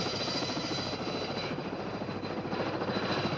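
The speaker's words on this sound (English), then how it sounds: "We transfer to a helicopter for another hour and a half." Steady broadband engine and rotor roar from a helicopter in flight, heard from inside the cabin, continuous and fairly loud with a faint low throb throughout.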